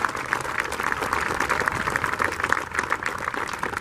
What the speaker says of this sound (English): So you should give a big round of applause for all the members of the legislature that are standing up.